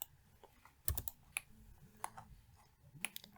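Typing on a computer keyboard during 3D modeling work, a handful of sharp, close key clicks spaced irregularly, with a couple of heavier presses, quiet and alone.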